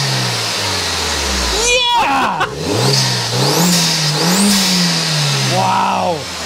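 A Mk1 Audi TT 225 turbo engine fitted with an induction kit revs up hard several times with rising and falling roars and a whooshing intake, loud and close, with voices talking over it.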